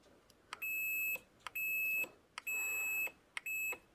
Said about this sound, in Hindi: जैसे प्रेस करेंगे तो यहाँ पर बजर बजने लगेगा कुछ इस तरीके से